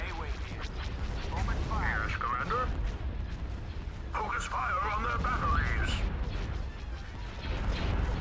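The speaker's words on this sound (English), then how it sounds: "Open fire on their weapon systems. Focusing all batteries." Starship weapon batteries fire in a Thrawn's Revenge space battle involving a Viscount and a Sovereign: dense, rumbling barrages of blasts and crashes roll on continuously, with radio-like voices talking over the din.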